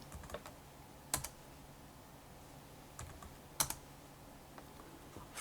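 Sparse, faint keystrokes on a computer keyboard while commands are entered during a Linux install, isolated clicks and short clusters separated by quiet gaps.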